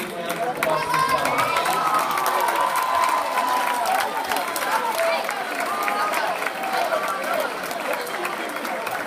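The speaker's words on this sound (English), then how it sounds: "let's give you a warm, big round of applause to them." A school assembly audience on the last day of school claps and cheers in a steady, dense wash of applause with shouts and crowd chatter mixed in, sustained throughout.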